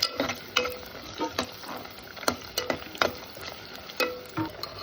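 Onions fry in oil for biryani, with a soft continuous sizzle under sharp, irregular spoon scrapes and knocks against the pan, close and fairly quiet.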